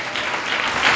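A church congregation claps together in a dense, steady burst of applause that grows a little louder toward the end.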